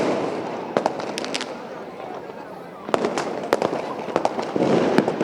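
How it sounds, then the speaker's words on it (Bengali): Firecrackers and fireworks explode over a city on New Year's Eve, with repeated sharp bangs and cracks, some close and loud, over a continuous distant crackle and murmur. "আতশবাজির আওয়াজে।"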